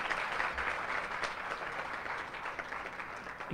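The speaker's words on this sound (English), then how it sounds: "How about a big round of applause?" An audience at a live graduation ceremony for guide dog and service dog classes gives a steady round of applause, a dense wash of many hands clapping that holds fairly even and moderately faint throughout.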